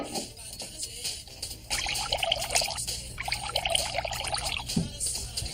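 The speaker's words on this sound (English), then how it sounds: "Pour some water into 2 identical glasses." Water poured into a drinking glass, a steady trickling pour that starts softly and grows fuller after a brief pause, heard close and alone with a faint knock near the end.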